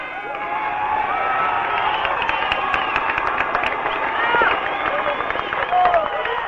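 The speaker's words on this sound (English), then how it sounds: "Pretty good-sized crowd on hand here at Holman Stadium this afternoon" A large crowd at a high school football quarterfinal at Holman Stadium murmurs and cheers in a continuous broad roar, heard over a narrow-band broadcast recording with scattered louder swells.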